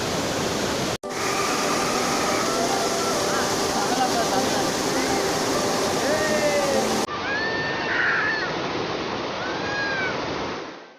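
The Panchalinga waterfall in the Thirumoorthy hills pours with a loud, steady broadband rush, close and continuous, while a voice with other faint calls sits under the roar before the sound cuts and thins near the end.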